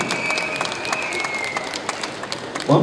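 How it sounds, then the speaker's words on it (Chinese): An audience at a Chinese music awards promotional event claps steadily to welcome the first performer on stage, a dense patter of many hands that fills the clip at a moderate distance. "我们以最热烈掌声请出第一组艺人哦"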